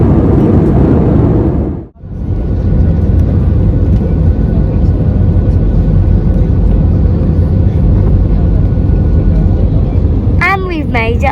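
Cabin noise aboard an easyJet Airbus A320 airliner in flight: a loud, steady broadband roar and rumble that briefly dips and returns, with a faint voice near the end.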